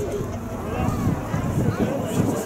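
Spartan 7W Executive aircraft with a 450-horsepower engine in flight at an airshow display, a low steady droning rumble mixed with wind buffeting on the microphone and no talk.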